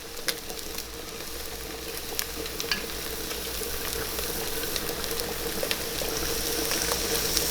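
Tomato paste sizzles in a hot pan during bolognese sauce cooking, a continuous close frying hiss with scattered pops and stirring clicks that grows slightly louder, no voices.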